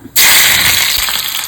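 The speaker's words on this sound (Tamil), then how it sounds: "எண்ணெய் சூடாயிடுச்சு. கொஞ்சமா வெங்காயம்." Chopped onion dropped into hot cooking oil bursts into a sudden loud, close sizzle that holds steady as a broad crackling hiss.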